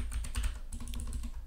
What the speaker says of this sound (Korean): 그리고 엔터 눌러주세요.